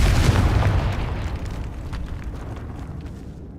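A Confringo blasting spell detonates in Hogwarts Legacy, a loud, close explosion with a heavy booming burst that rumbles and slowly decays over a few seconds.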